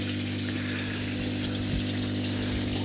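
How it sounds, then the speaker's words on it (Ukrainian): Water sloshing and splashing in an aquaponics fish tank, carried over the steady drone of a running pump, continuous and fairly close throughout. "Коли вода хлюпає, можливо, це їх трошки відлякує"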